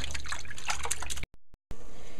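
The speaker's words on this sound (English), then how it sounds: "I'm washing all the beef here" Tap water pours steadily over raw beef being rinsed in a kitchen, a continuous splashing trickle that cuts out briefly twice before flowing again.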